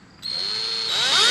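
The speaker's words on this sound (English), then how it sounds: "let's put the drill bit and let's go. We're making a hole in a Hellcat." A power drill spins up abruptly, whining at a high steady pitch, then rises in tone as it bites into the metal body of a Dodge Challenger Hellcat car, loud and close.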